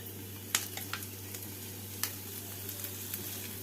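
Chopped tomato fries with onion, green chilli and garlic in a pan, giving a faint, steady sizzle with a few sharp utensil clicks scattered through it.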